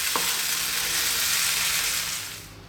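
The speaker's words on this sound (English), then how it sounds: "just let that go now for about 4 to 5 minutes, giving it a stir every now and then" Sausage and bean sauce sizzles steadily in a frying pan, a close, continuous loud frying hiss with a light stir near the start, easing slightly toward the end.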